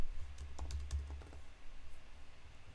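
Quiet, close keystrokes on a computer keyboard, a short burst of light taps early on followed by a lull, over a low steady hum.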